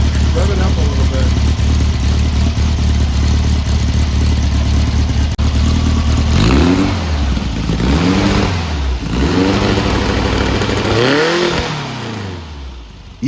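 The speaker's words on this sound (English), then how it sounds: "Rev it up a little bit." The small engine of the Brubaker Box car idles loudly, then revs several times in rising and falling pulls, heard up close with people talking over it.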